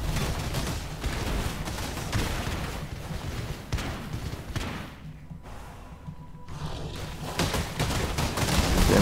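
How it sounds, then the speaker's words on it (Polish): Dense, continuous bursts of gunfire and explosions rumble loudly in the video game Path of Exile, with a brief dip in the barrage before the booming resumes. "Więcej eksplozji, ostrożnie."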